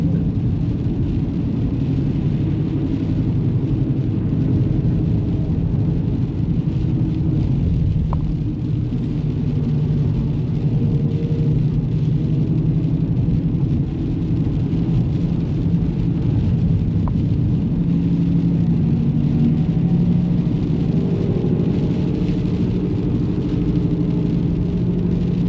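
A car lapping the Nürburgring in Germany, its engine and road noise a steady, loud rumbling whir that runs unbroken throughout, with no voices over it.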